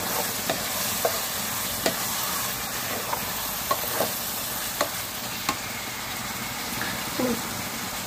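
Raw prawns frying in a pan with ginger-garlic paste, a steady soft sizzle broken by light scraping stirs at irregular intervals, close by, with no talking.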